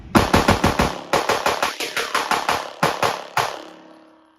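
Rapid pistol fire from a Glock 45 fitted with an ARC Reactor, a fast string of loud close shots followed by two spaced final shots and a fading echo.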